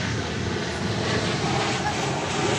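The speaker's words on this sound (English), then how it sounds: "comes this 737-800. American Flight 1750." An American Boeing 737-800 arriving from Cancun roars at DFW Airport, with loud, steady engine noise from nearby.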